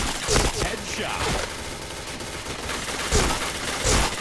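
Bursts of rapid gunfire crackle in the first-person shooter Point Blank, with clustered shots near the start and again toward the end over a busy game background.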